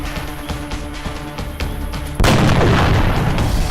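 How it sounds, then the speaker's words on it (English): In the video game XCOM Enemy Unknown, a soldier takes a shot: dense game audio with rhythmic music and effects gives way to a sudden loud burst of gunfire that roars on to the end. "Alright, can you make this shot, John?"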